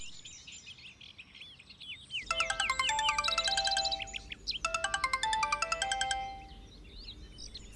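Melodic electronic phone ringtone signalling an incoming call, playing in two bursts of rapid chirpy notes after a quiet stretch with faint birdlike tones, fairly close and alone without talk.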